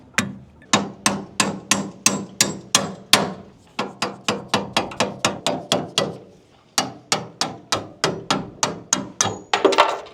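An old Mumby kick-up rudder on an aluminum boat has its pin hammered out: sharp metallic strikes fall in quick, steady runs of about four per second, close and loud, with short pauses between bursts and no talking.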